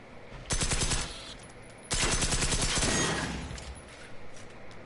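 Bursts of SMG gunfire in the video game Generation Zero: a sustained loud volley, a short pause, then a second long rapid-fire burst that tapers off into quiet.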